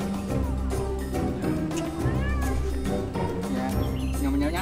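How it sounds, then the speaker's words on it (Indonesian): A cat meows repeatedly in drawn-out, insistent cries close by, mixed with people chattering and laughing around it. "Kucing itu hewan kesayangan Nabi."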